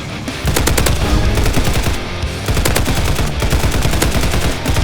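Rapid automatic gunfire from the Roblox shooter Hypershot, loud and sustained bursts of closely spaced shots with a short pause near the two-second mark.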